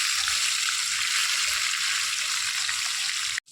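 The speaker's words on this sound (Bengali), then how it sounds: "এবার এই পাঁচটা ভেজে নেবো লাল করে" Pieces of katla fish fry in hot oil with a steady, dense sizzle that continues evenly and then cuts off abruptly near the end.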